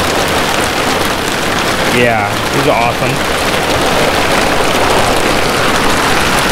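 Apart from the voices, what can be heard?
heavy rain pouring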